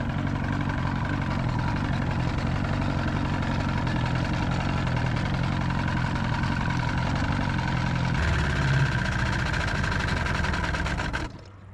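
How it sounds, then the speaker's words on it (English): A two-stroke outboard boat motor drones steadily and loudly at idle, shifting pitch slightly near the end before cutting out abruptly as it runs out of fuel. "we're going to just continue to run that motor until it turns itself off because all the fuel has gone out of it"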